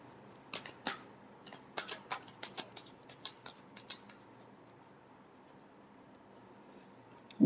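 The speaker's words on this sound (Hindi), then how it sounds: "Last shuffle." Tarot cards being shuffled by hand, a quick series of crisp papery snaps and clicks that come close together, then gradually thin out and fade into a quiet room.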